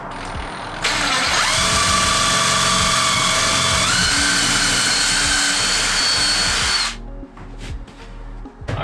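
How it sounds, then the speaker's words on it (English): A power drill bores a pilot hole through the floor of a cargo trailer being converted, a loud, steady high whine that runs for about six seconds and then stops, followed by a few faint clicks. "So I'm gonna drill a pilot hole, go under the trailer, make sure that we're good"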